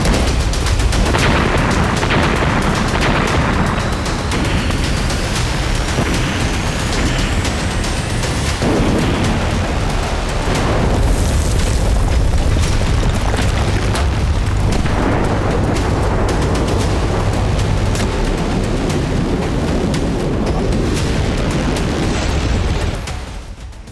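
Heavy bombardment from Israeli strikes on Iran, a dense, continuous barrage of loud booms and crackling blasts running for about twenty-four seconds with no pauses, ending in a brief fade.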